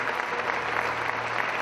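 Sustained applause from mourners at a funeral service for Javier Azagra, a dense, even patter of many hands clapping steadily throughout, moderately loud with no voices over it.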